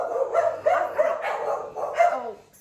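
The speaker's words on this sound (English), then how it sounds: "Sorry, that's the dogs, if you could hear them." Dogs bark close by in a rapid run of sharp, repeated barks, with a short whine toward the end, over a couple of seconds. Nobody speaks.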